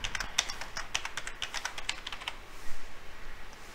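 Fast, light clicking of fingers typing on a computer keyboard, a dense run of keystrokes for about two and a half seconds before stopping into quiet room tone.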